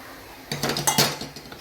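Metal spoon scraping and clanking against a metal pot while dal is stirred and mixed, a few quick clinks and scrapes close by with no talking.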